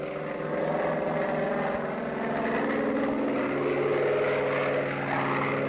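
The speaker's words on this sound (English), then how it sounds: "The takeoff appears normal, but then something goes wrong." Bearcat propeller airplane taking off, a steady loud droning engine roar with throbbing propeller tone that swells slightly as it builds power.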